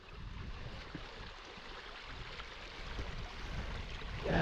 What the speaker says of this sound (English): this stream is just carving its way through the sediment